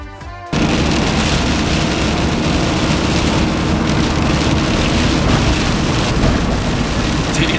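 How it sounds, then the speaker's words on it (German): Heavy rain and wind lash the Isle of Skye in Scotland, bursting in after a brief moment into a loud, steady, dense roar that continues unbroken to the end. "Die Insel begrüßt uns mal wieder mit Regen und Wind."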